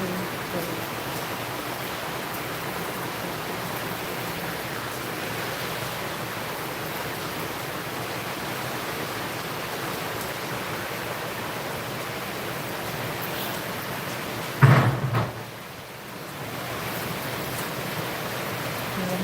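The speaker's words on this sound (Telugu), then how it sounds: "అలాగే వర్షం కూడా చాలా దగ్గర కురుస్తుందండి చాలా వర్షం" Steady rain falls close by while wind moves through the trees, a dense, unbroken hiss that runs the full length with one brief louder bump near the end.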